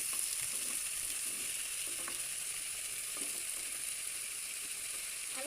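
Small cut potatoes are stirred in a frying pan, giving a steady hiss of frying oil with faint intermittent scrapes and taps from the stirring.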